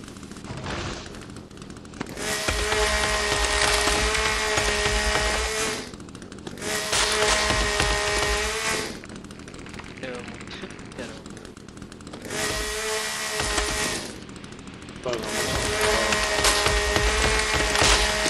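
Chainsaw in The Forest video game cutting wood, loud buzzing bursts that rise and fall in about four long passes, each a few seconds, with quieter gaps between.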